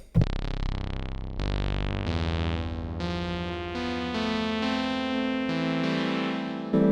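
A bright, buzzy synthesizer lead plays a short sequence of sustained notes, each with a sharp attack, alone and fairly loud.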